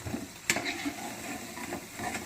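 Cauliflower pakoras fry in hot oil, giving a close, soft steady sizzle with a brief sharper crackle near the start.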